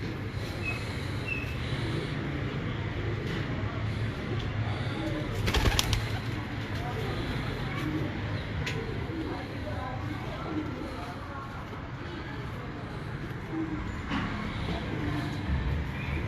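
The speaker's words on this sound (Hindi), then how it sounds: "ये माशाल्लाह उस्ताद अशरफ भट्टी साहब के मेन ब्रीडर टैडी कबूतर" Teddy breeder pigeons coo softly on a rooftop in Kasur belonging to Ustad Ashraf Bhatti, with low repeated calls beneath someone talking and a brief louder knock partway through.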